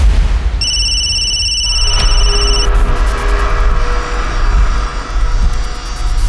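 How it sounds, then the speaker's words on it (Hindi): A telephone rings with a bright, repeating electronic trill over a low rumbling background, then the ringing fades into steady noise. "सर खबरी का फोन आया था"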